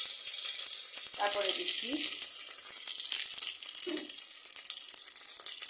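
Bay leaves dropped into hot oil for a dried-fish dish give a steady, loud, bright sizzle that runs throughout, close up. A person talks briefly over the frying.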